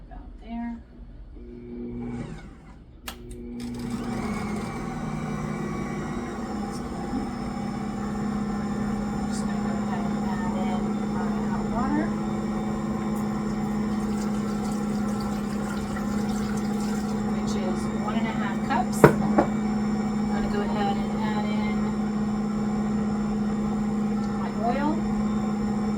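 A kitchen machine switches on and runs at low speed, holding a steady, even motor hum with a whine that continues unbroken for more than twenty seconds, close and fairly loud.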